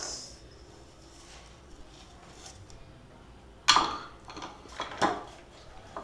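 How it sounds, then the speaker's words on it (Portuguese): A child washing dishes at a kitchen sink, with quiet clinks of cutlery and two sharper clatters of dishes and pans near the end, no talking. "Aff, Maria, só tem que lavar a louça?"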